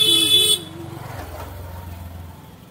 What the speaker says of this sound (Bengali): তোমরা গাড়ি ঘোড়ার আওয়াজ বেশি পাবে, যেহেতু আমি এখন আছি রাস্তায়।